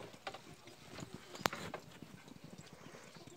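Hooves of oxen running on a track make a quick, steady clip-clop of hoofbeats with one sharp knock partway through, heard close over ambient noise.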